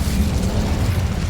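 A fire spell blasts a wooden barricade in a Hogwarts Legacy game scene, heard as a continuous low rumbling roar of flame and impact lasting just over a second, loud and dense without a sharp attack.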